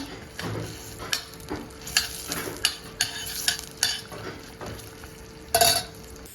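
Frozen tomato drops into a pan of sauce being made for İzmir köfte, with a series of close stirring scrapes and soft sizzling thumps at a steady, uneven rhythm, ending in a brighter clatter of utensil against the pan.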